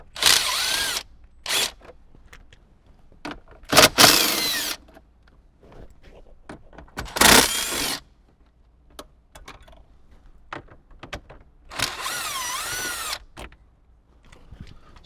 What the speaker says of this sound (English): I like to just use a small impact gun to remove it.